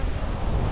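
A free-roaming street dog in Albania gives short yipping barks against a steady outdoor background, with a brief whimper near the end.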